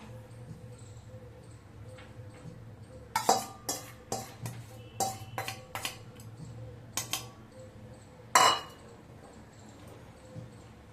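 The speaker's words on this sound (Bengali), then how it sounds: "ডিমগুলো উপর থেকে আমি দিয়ে দিলাম, এবার মিশিয়ে নিচ্ছি" Fried eggs being stirred into pasta in a pan, heard as a run of distinct metallic clinks and scrapes of a utensil against the pan, with one louder knock near the end, over a steady low hum.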